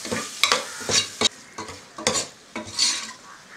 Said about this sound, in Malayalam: ഇത് നല്ല വണ്ണം ഒന്ന് വഴറ്റിയെടുക്കണം തക്കാളി.